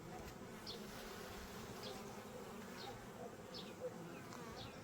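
Steady, dense buzzing of many honey bees close by at a hive, a continuous droning hum with occasional brief louder passes, no voices.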